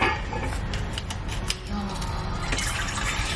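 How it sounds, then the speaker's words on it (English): Warm milk pours in a steady stream into a stand mixer bowl, a close, continuous liquid trickle and splash lasting a few seconds. "take a cup of warm milk and pour it in your stand mixer, along with a packet of yeast."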